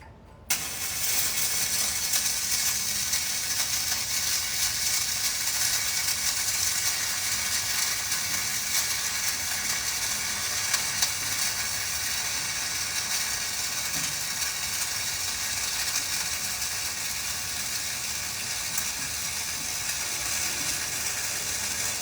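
Welding on a 1-inch steel coupon in a test booth, a dense, steady crackling hiss that runs unbroken and fairly loud from just after the start to the end, with no talking.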